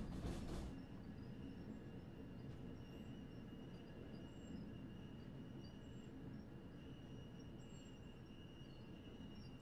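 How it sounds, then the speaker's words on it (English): A train in a Niddertalbahn train simulator game rumbles steadily as it slows, with faint high wheel squeals drifting over the low drone and a brief clatter at the start, no voices. "I'm letting the train slow down quite a bit here on purpose"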